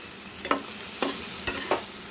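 Small pieces of fried egg are stirred into onions in a hot pan, with a soft continuous sizzle and about four distinct stirring scrapes at regular intervals.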